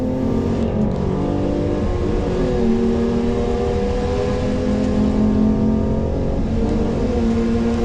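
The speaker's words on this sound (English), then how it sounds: "Revving the absolute tits off it up the hill" A loud race car engine revs hard and holds high up a hill at Pukekohe circuit, droning continuously with rising pitch as it climbs, close and unbroken throughout.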